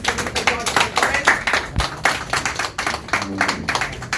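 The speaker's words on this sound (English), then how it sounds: "Please, can you clap hands for Mr. George Alvarez?" An audience claps for George Alvarez at a gathering of the Guinean community in New York. The clapping is moderate and scattered, with voices and crowd noise mixed in.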